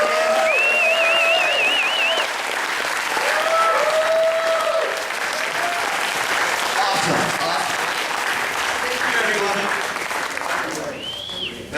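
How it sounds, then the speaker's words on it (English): A crowd applauds steadily throughout, with cheers and whistles scattered over the clapping. "Please give a warm, big applause."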